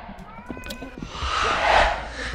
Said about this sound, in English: Cat in a bloody toilet.